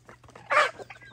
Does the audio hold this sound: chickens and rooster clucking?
yes